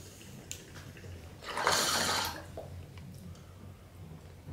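Water bubbles and gurgles in a bong as smoke is drawn through it, swelling into a loud, close burble for about a second before settling back to quiet background noise.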